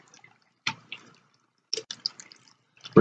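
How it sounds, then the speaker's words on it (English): A shaken cocktail pours over fresh ice in a glass, with a few sharp, close clinks and light liquid splashes spaced out amid quiet. "Just going to pour this over some fresh ice."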